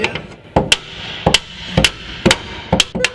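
Sharp metallic strikes of a ratchet used as a hammer land in pairs at a steady rhythm, close and loud.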